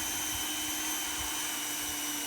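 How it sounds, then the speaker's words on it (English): Power drill boring a hole through a plastic garbage can, centered between the handles; a steady, loud whirring motor hum runs throughout with a constant tone, no voices. "Okay, just drill a hole right here."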